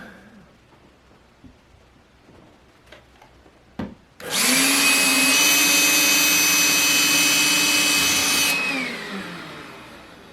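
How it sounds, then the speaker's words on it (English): A vacuum cleaner switches on abruptly, runs with a loud steady whine and roar for about four seconds, then winds down, cleaning up drilling dust; quiet room tones before it starts. "I'm going to use the vacuum cleaner to get the dust out"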